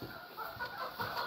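Chickens and roosters cluck softly among farm animals, a faint, continuous murmur of overlapping calls with no voices.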